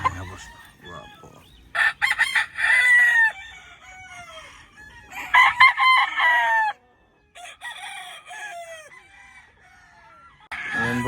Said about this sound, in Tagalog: Mga gwapong manok. Nakatago rito.